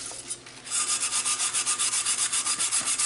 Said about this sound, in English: with just a little bit of elbow grease, we're just going to give it a little scrub